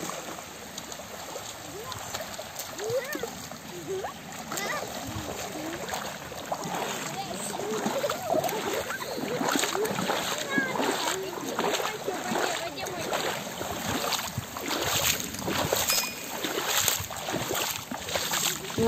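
Waves splash and slosh against the Volga riverbank in a continuous, fairly loud wash of water, with a voice speaking over it.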